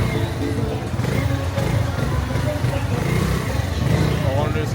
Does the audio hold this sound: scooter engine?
yes